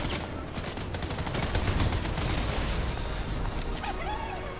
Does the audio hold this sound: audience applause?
no